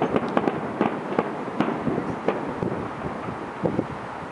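Grand finale of a 2013 fireworks display in Honolulu: a dense, continuous rumble of bursts and crackling pops with sharp reports rising above it, loud and sustained over steady wind noise.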